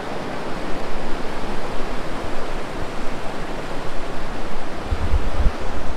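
Dharamkot waterfall with crystal clear water, a steady, loud broadband rush of falling water that fills the whole stretch without a break and with no voices over it.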